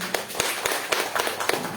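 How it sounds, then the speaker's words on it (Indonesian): An audience at an Islamic business seminar claps for a company in quick, steady, evenly spaced claps, fairly close and loud. "Tepuk tangan dulu untuk PT BES."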